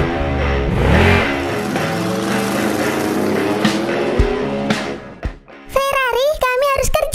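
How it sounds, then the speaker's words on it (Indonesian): A cartoon Ferrari stuck in mud revs its engine in rising and falling whines while a child-like voice talks over it, ending in bright squeaky animated sounds. "Ferrari terjebak di lumpur dan butuh bantuan."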